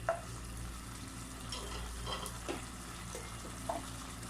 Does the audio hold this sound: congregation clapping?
no